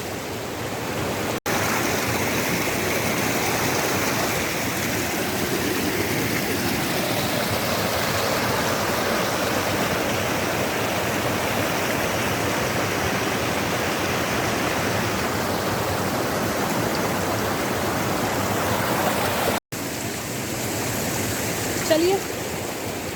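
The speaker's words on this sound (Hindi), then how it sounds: "ये वहां से निकला हुआ पानी है, और ये यहाँ पे आके ऐसा बन रहा है।" Spring water and a stream fed by a monsoon runoff channel flowing in the lesser Himalayas, a constant broadband rush near and steady for the whole stretch, with a brief break near the end.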